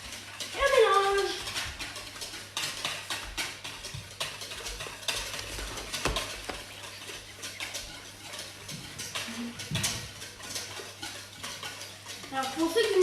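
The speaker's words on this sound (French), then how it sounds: "Et on mélange." Zebra cake batter made with butter is stirred in a bowl, with a steady scraping and sloshing that continues throughout, close and moderately loud, alongside soft kitchen clatter.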